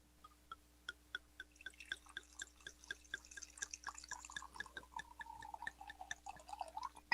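Wine is poured into a glass, first as quiet, evenly spaced drips and trickles, then as a faster, denser stream of splashes toward the end, all close and soft.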